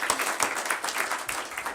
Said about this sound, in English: let's give the students and parents another round of applause for all of their accomplishments.